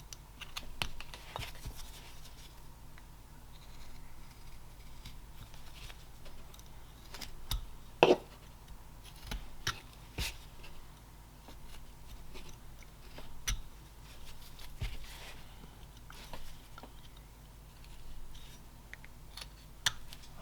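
Knife trimming the area between the legs of a small carved wooden bear figure: a steady run of close, dry scraping and clicking cuts, quiet and irregular, with no talking.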